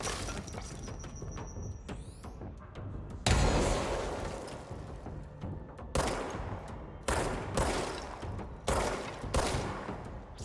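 Bursts of gunfire in the Control video game: a long, loud volley starts about three seconds in, followed by several more separate bursts in a steady rhythm.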